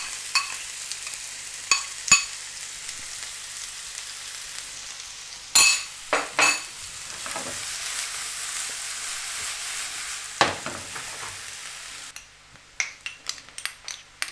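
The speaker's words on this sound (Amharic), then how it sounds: "ከዛ ዘይታችን ሲግል በቂ የሆነ ሽንኩርት እንጨምራለን" Onions fry gently in hot oil in a pan, giving a soft, low sizzle, with a few sharp utensil clinks and stirring scrapes scattered through it.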